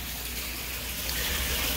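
Water drains through an aquaponics bell siphon in a steady, close trickling rush that stays even and fairly loud throughout, with no talking.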